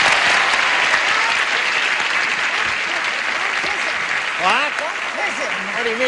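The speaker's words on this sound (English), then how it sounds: "we will all give him a brisk and friendly round of applause" Studio audience on a 1977 game show applauds a new panelist, a TV sitcom actor, with steady dense clapping that holds for several seconds, while a voice speaks over it near the end.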